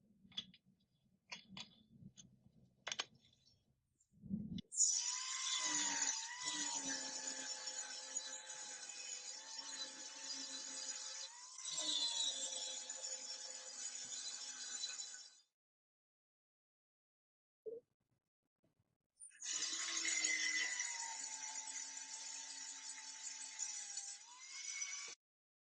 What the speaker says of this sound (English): and then sand it with a flap sander